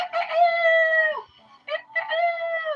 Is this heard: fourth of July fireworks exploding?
no